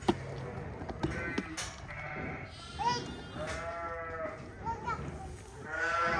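Sheep bleat repeatedly in a lambing shed, several calls close by and overlapping, with a murmur of rustling and faint talk in the background.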